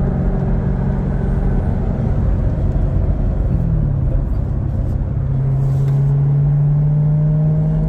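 A Chevrolet Camaro engine with stock exhaust hums and rumbles steadily up close, its pitch sliding down then climbing again as it rev-matches through a paddle-shift gear change.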